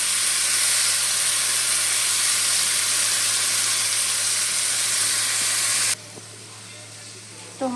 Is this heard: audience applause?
no